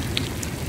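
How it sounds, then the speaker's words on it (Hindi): Rain falls as a dense, continuous patter with a few close drops standing out, steady and moderately loud for a brief moment with no voices. "बारिश हो रही है"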